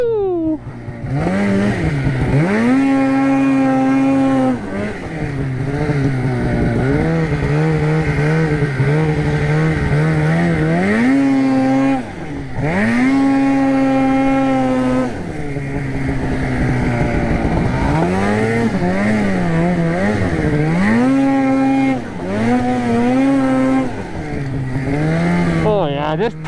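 Polaris RMK snowmobile engine revving hard while chewing through cattails, loud and close with repeated rising and falling high-pitched whines, bursts of acceleration and brief throttle drops.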